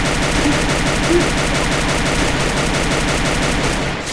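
Rapid automatic gunfire from the video game Free Fire pounds in a fast, steady rhythm of closely spaced shots, loud and continuous for about four seconds before easing off at the end.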